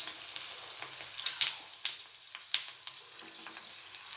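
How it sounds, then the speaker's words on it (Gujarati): Coriander vadi (kothimbir vadi) frying in hot oil over a medium gas flame gives a close, steady sizzle broken by sharp crackles and pops, with no voices. "તેલ સરસ આવી ગયું છે એટલે આપણે ગેસ મીડિયમ કરી અને આપણે કોથમીર વડી મૂકી દઈશું"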